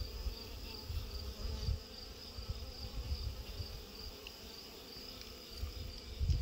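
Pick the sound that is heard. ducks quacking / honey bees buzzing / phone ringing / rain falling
honey bees buzzing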